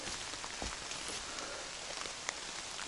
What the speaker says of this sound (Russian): Все, дождь захерачил.